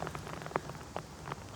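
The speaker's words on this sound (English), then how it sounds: "This rain is really coming down at this moment." Steady heavy rain falls on a golf course during a PGA EuroPro Tour championship. It comes across as a soft, continuous patter with a few sharper drop hits, fairly faint and with no voices.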